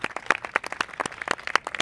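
An audience claps in dense, rapid applause, many hands close together, steady for a couple of seconds at a live show recording.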